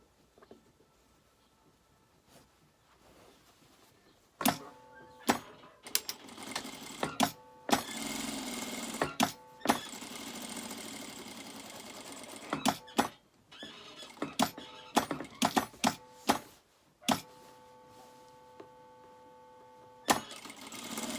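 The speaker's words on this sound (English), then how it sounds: "you want to sew the bag and the lining together down to the bottom here across the base" Sewing machine stitching a trouser front hip pocket bag to its lining, several short mechanical runs of rapid stitching separated by quiet pauses, close and fairly loud.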